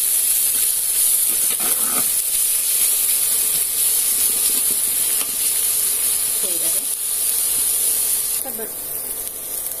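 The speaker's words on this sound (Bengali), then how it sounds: "আমি এবার পেঁয়াজটা দিয়ে দেব পেঁয়াজটা একটু হালকা নেড়ে নিয়ে ব্রাউন হলেই" Onions fry in a pan while being lightly stirred until brown, a loud, continuous sizzling hiss with occasional soft scrapes of the spoon and a couple of brief, faint voice sounds underneath.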